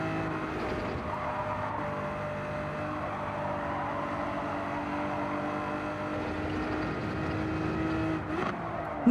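Gran Turismo 7 race car engine holding a steady high-revving drone in fourth gear, loud and continuous with only slight shifts in pitch, near and alone.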